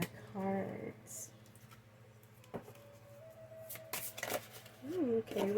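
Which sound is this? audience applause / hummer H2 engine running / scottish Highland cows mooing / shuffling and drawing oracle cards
shuffling and drawing oracle cards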